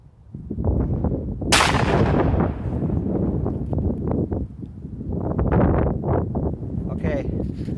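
A single .350 Legend rifle shot fired outdoors at shattered glass cracks sharply and loudly, followed by a rumbling echo and wind noise, with people talking over the tail.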